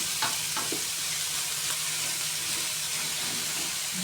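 Meat sautés with onions in a pan, giving a loud, continuous sizzle with occasional clicks and scrapes of stirring close by.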